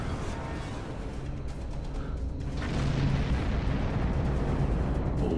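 Explosions rock a ship under attack in Star Trek Online, a continuous roar of blasts and rumbling that swells louder partway through, heavy and close with no voices.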